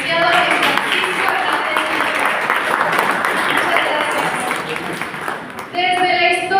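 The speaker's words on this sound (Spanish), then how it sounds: "un fuerte aplauso de nuevo, por favor, para el licenciado Francisco" Sustained audience applause at a cultural evening of legends from southern Jalisco, dense clapping filling nearly the whole stretch before fading as a voice returns at the end.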